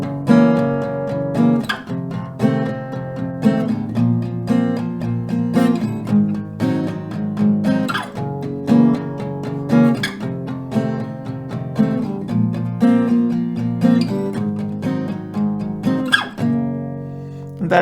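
An acoustic guitar strums the rhythm pattern for a song in a steady, repeating groove of bright chord strokes, close and clear, with no voices.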